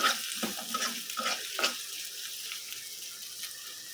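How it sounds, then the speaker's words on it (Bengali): Soft, steady sizzling of greens frying in a pan, with a few faint scrapes of stirring early on. "এই শাকটা হলো গিয়ে লবণ দিয়ে সিদ্ধ করছি ভাজা ভাজা করে"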